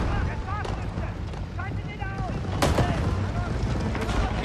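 Rapid bursts of gunfire with heavy recoil blast out during a video game match, sharp loud cracks repeating over a busy ambient bed while a voice talks across them.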